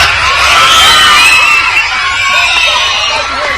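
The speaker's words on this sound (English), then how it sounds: "You hear the kids screaming PMP." Crowd of children in Manchester screaming and cheering at a political event, loud and sustained, shrill voices massed together close by.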